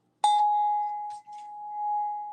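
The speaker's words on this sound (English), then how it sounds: "I'm going to clear with my sound bell." A sound bell used for energy clearing is struck once, giving a bright metallic ding that rings on in a long, clear, steady tone. Two faint brief rustles occur partway through the ring.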